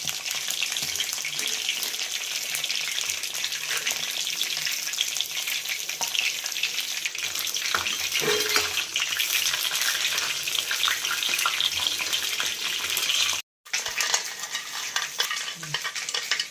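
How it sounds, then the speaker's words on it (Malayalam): Brinjal pieces fry in hot oil with a steady, dense sizzle and crackle that runs almost unbroken, with occasional stirring clinks. There is a brief silent gap near the end, and nobody speaks. "ഇതുപോലെ എണ്ണ ഒഴിച്ചു കൊടുത്ത് നമുക്ക് ഓരോ വഴുതനങ്ങയായി ഇട്ടിട്ട് നന്നായിട്ട് ഫ്രൈ ചെയ്ത് എടുക്കണം"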